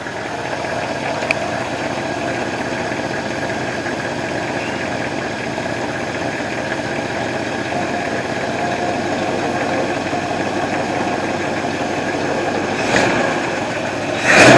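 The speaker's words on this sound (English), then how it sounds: "I think the idle needs to come up a bit." A car engine idling at low revs, a steady, even hum with a dense buzz that holds constant for the whole stretch. It rises briefly near the end.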